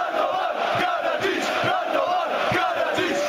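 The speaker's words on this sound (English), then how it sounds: "Quite often, fans will chant the name of Radovan Karadzic rather than cheer on their favorite team." Football fans chant together at a match, a dense, loud crowd roar with rhythmic shouted pulses rising and falling continuously.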